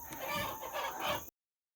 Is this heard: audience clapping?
no